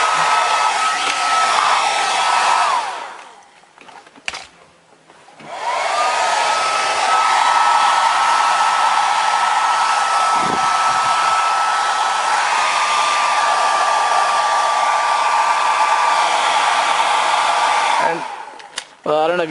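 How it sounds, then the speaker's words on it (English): Blower fan clearing dust out of an Xbox console, a loud steady whirring rush with a high whine, cutting off briefly midway before starting again and running until near the end. "you want to get the fan, just turn it on and be sure to get as many dust particles out of the Xbox as you can"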